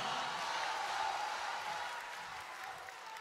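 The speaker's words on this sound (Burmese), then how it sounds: "ောင်ချိုးတို့ကံတော်ဝင်မြောက်လက်ခုပ်တယ်များကြားပါရစေခင်ဗျာ" Audience applause at a Myanmar Idol Season 3 jazz-round broadcast: a steady, dense wash of clapping from a large crowd that fills the whole stretch and slowly eases off, with no voices over it.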